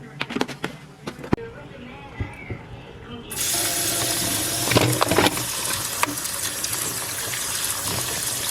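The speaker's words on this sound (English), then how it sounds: "Then you take some vinegar and clean your vegetables." Running tap water gushes steadily while vegetables are washed with vinegar and water in a home kitchen, starting after a few light knocks and handling sounds and continuing loud and close.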